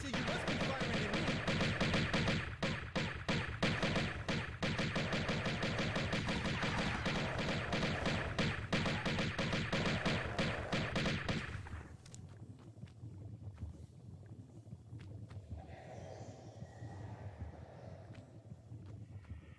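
Gunfire in Tomb Raider comes as a long, rapid stream of sharp shots over wind-like noise, loud for about twelve seconds before cutting out to quieter ambient rumble with a few scattered faint pops.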